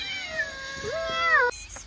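A house cat gives one drawn-out, rising-and-falling meow up close, then a brief shorter sound at the end.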